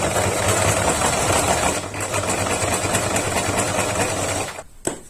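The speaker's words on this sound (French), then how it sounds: "je vous propose qu'on commence par coudre les scratchs sur les petits trucs de tissu comme ça" A sewing machine stitches Velcro strips onto small pieces of fabric for a fingerboard holster, whirring fast and loud and continuously, then stopping abruptly near the end.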